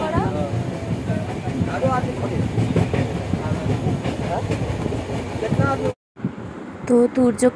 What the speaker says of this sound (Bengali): এমনিই তো ট্রেন দুলছে